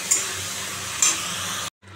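Cumin and turmeric powder being stir-fried in a pan for a pomfret fish curry: a steady, loud close sizzle broken by two scraping stirs, then a brief cut to silence before the sizzle returns.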